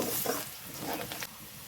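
Onions sizzle in hot oil with bay leaf while they fry to golden for a chicken curry, a steady close crackle broken by the scrape of stirring.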